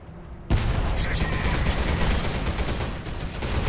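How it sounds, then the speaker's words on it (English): Sustained gunfire in the first-person shooter Selaco, a sudden onset of heavy, rapid automatic shots that roll on densely and loudly, with a brief dip before firing resumes. "he had sidestepped my gunfire"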